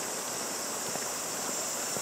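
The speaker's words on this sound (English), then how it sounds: "It's got a water wheel." Steady broadband rush of water running at an old water wheel beside an abandoned house in Japan, continuous and fairly loud with no voices, a few faint knocks rising through the flow.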